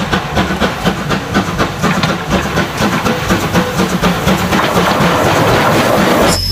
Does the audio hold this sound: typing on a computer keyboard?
no